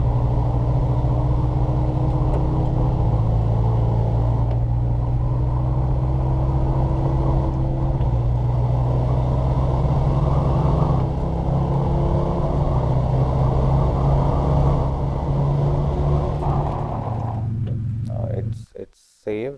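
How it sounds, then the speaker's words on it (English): A truck engine runs steadily in SnowRunner, a loud, continuous low rumble with slight shifts in pitch throughout before cutting out abruptly at the end. "run the vehicle for a moment till the game save"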